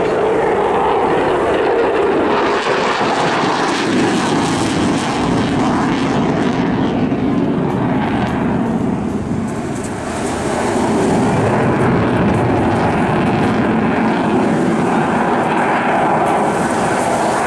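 Typhoon FGR4 jet fighter at the Eastbourne airshow 2018, its engine a loud, continuous roar that swells and shifts as the jet passes, dipping briefly midway before building again, with no voices over it.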